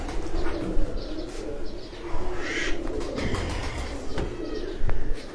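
Pigeons cooing in a loft, low repeated coos with some chirps and occasional wing flaps, fairly close, with no talk over them.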